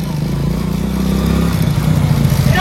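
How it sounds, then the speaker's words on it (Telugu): A motorcycle engine hums close by with a low steady drone that grows slightly louder as it approaches, and a faint rising tone appears at the end. "అన్నకి బైక్ వచ్చేసింది చూడు."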